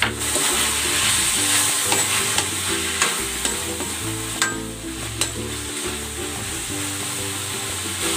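Chorizo sizzles loudly in a hot pan, a steady crackling fry with occasional stirring scrapes and clinks, close and continuous with no voices.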